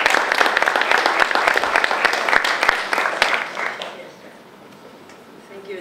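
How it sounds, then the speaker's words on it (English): Audience at a poetry festival gathering in Limerick breaks into loud, close applause with sharp individual claps, sustaining for over three seconds before quickly fading to near quiet as the room settles. "Applause for Beatriz."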